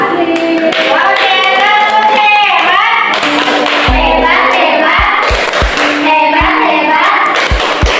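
A group of teachers at a numeracy training session performs a rhythmic clap chant, voices singing along with the patterned clapping, loud and close, with heavy low thumps toward the end.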